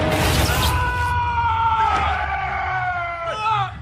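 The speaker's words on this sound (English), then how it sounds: "impales the dad, and he makes this hilarious scream" A man in the Aquaman film screams loudly while being impaled, a harsh drawn-out yell over a crashing, crowded action scene, the cry wavering and falling off near the end.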